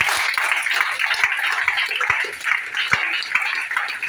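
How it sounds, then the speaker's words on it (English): A church congregation claps in a sustained mass of hand claps, steady and moderately loud, with a few sharper individual slaps standing out. "Clap for Jesus."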